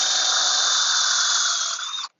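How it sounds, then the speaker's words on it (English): A power drill pre-drills holes in wood, giving one loud, steady high-pitched whine that holds evenly for about two seconds and then cuts off abruptly, with no voices over it. "now we just pre-drill some holes"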